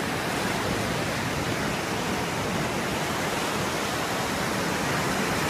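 Steady broadband wash of Lake Michigan water, like small waves rolling continuously onto a shore, with no distinct breaks between them.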